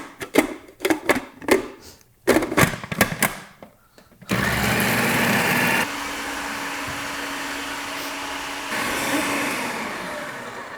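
A blender purees cottage cheese, its motor starting after a few seconds of clattering and knocking, then running steadily and loudly with a shift in pitch partway through; no voices.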